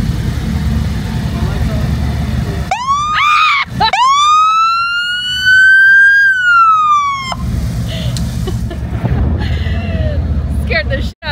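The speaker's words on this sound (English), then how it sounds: "Gotta test out all the sirens. Columbus PD bikes" Several Columbus police motorcycle sirens wail and rise in pitch over a loud idling motor rumble, cutting off and restarting in bursts, with a brief horn-like blip near the end.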